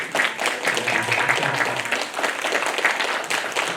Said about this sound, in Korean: 우리 목사님 사모님 일어나시면 뜨겁게 박수로 환영하겠습니다